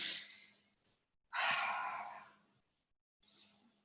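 A close, audible breath cycle during a Pilates mat exercise: a long airy exhale, then a stronger, fuller breath, and a softer one trailing off, separated by short silences.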